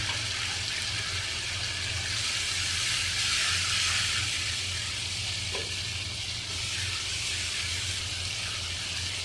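Powdered spices sizzling and frying in a pan for mutton biryani, a steady close hiss with occasional stirring noises and no talking, holding at an even level throughout.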